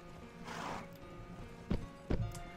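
In the video game Mount & Blade: Warband, two heavy horse hoof thuds land about half a second apart over a steady ambient hum, preceded by a soft rustling swell.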